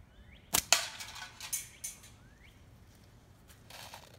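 A slingshot with GZK black flat bands fires at a can outdoors, giving two sharp snaps close together followed by a few fainter knocks and taps, with some faint bird chirps in the background.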